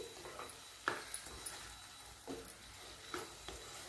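Cut tomatoes tumble into a pan for sev tameta shaak and get stirred in, giving a few soft scraping knocks and gentle sizzle, quiet and close, with no talk.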